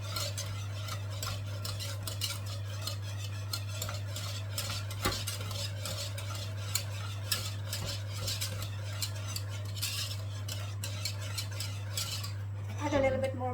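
A butter and flour roux stirred steadily in a pan over low heat, a constant scraping and clinking of the utensil against the pan with a soft sizzle underneath, close and continuous.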